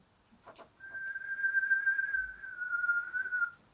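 A person whistles one long, sustained clear note that bends slightly downward, after a brief breathy attempt, alone and close in a quiet room.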